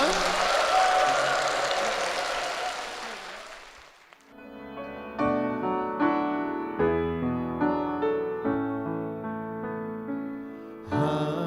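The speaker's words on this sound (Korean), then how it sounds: "힘찬 축복의 박수 부탁드리겠습니다" Congregation in a church breaks into loud, dense applause for about four seconds, then fades as sustained piano or keyboard chords of a hymn begin alone.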